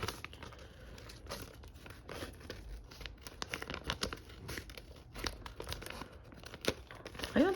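Pop Mart Labubu packaging being cut, quiet crinkling and snipping of paper and plastic in irregular close bursts, fairly soft throughout.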